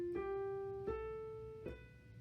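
Keyboard notes rising in small upward steps: three clean, sustained tones struck one after another at an even pace, each ringing clearly on its own with no talking.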